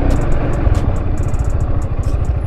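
A Peugeot Metropolis 400cc three-wheeled scooter pulling away, its engine a steady close, loud mid-pitched drone with a rapid clattering pulse and no talk over it.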